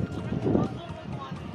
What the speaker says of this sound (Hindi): और ये देखें गाइस एक घोड़ा मेरे सामने आ रहा है, बहुत सजा हुआ घोड़ा है।